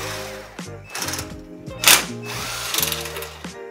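Power tool driving bolts out of a Mega Moto Eazy 80 minibike frame, several short whirring bursts with ratcheting pauses between them, close and loud with no talk.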